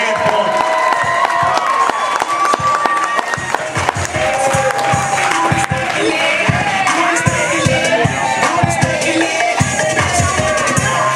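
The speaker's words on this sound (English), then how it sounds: "Come on, clap your hands for him." A comedy club audience at a billiards club claps and cheers for a comic taking the stage, with loud, dense applause, whoops and shouts close by, while background music plays underneath.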